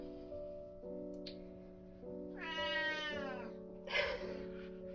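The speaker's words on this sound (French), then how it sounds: "le chat qui se mêle de la conversation" A cat meows twice, drawn-out and fairly close, over a steady low hum in the room.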